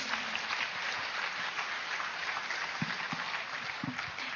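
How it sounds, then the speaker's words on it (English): An audience at a live wisdom-session event gives a sustained round of applause for the sponsors, dense and steady, with a few louder claps standing out near the end. "Can we have a huge round of applause for them, please?"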